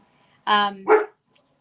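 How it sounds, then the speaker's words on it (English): Dog giving a single close bark with a short whiny follow-up, loud and abrupt against an otherwise quiet room. "our dogs are about to bark, so please forgive us"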